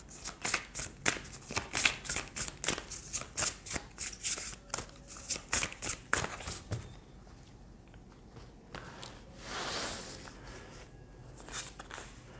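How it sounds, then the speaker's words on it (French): Tarot cards are shuffled close by in a quick series of crisp riffling flicks and soft slaps over several seconds, followed by a quieter pause with a faint slide of cards. "on va prendre d'autres cartes"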